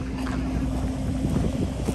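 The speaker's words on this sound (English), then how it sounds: "It's a bit windy." Wind rushes across the microphone outside the National Stadium during the 2023 Boys and Girls Champs athletics championship, a steady, fairly low rumble with no clear voices.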